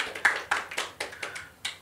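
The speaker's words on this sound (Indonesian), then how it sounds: "Tepuk tangan buat Yesus." A church congregation at a Sunday service claps briefly, a quick run of about eight sharp, fairly faint claps in uneven rhythm before fading out.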